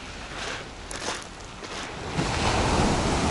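Sea waves wash onto a beach of coarse pebbles mixed with sand in Turkey, with a soft rolling surge that builds into a fuller, louder rush, plus some wind noise.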